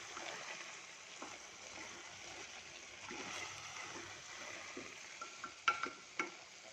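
Washed rice being stirred into a spice tempering in a cooker pot for tomato bath, making faint, soft scraping and shuffling sounds with a few sharper clicks of the spoon near the end.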